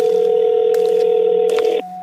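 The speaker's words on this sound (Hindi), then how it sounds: "उसने अपनी रूममेट पूजा को भी फोन लगाया," A phone call placed to a roommate: a steady electronic line tone sounds continuously, interrupted by a couple of brief clicking button-like blips before it cuts out near the end, with no voices.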